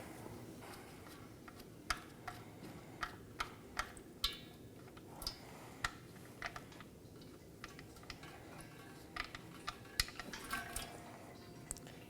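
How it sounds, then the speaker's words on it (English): Engine oil draining from the drain plug of a Chevrolet Equinox (2018–2024 model), heard as soft, irregular drips and ticks falling into a pan, faint and close, with a low steady background hum. "Now we can let the oil drain out."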